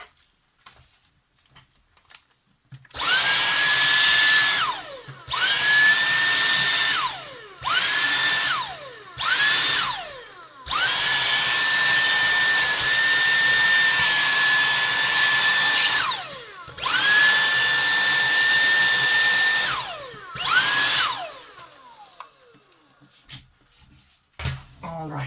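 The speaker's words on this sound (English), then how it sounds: "I'm going to vacuum all this funky powder" A small vacuum cleaner sucks up loose powder from an old Polaroid SX-70 camera being restored, running loudly in several long bursts with short pauses between them, close up.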